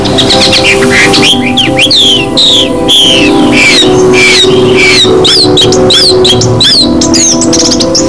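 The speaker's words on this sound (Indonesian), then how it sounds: "burung predator yang mempunyai suara kicauan yang sangat indah" A long-tailed shrike calls loudly and close, rapid varied chirps and harsh squawking notes repeating over a steady background hum.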